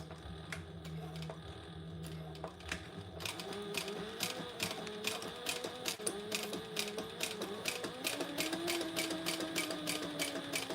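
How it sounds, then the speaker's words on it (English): A sewing machine back stitches through fabric for a wellness bag, its needle ticking in a fast, even rhythm up close, with a brief pause before it speeds up and runs steadily. "so now we do back stitch up here because that's going to be covered by the tab."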